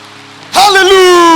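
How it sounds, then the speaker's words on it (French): A church congregation suddenly bursts into loud cheering and applause after a quiet moment, with a strong sustained shout rising above the clapping. "si tu es béni, acclame pour Jésus."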